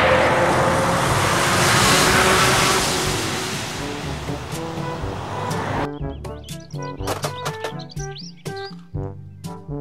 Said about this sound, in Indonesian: Mobil truk kontainer.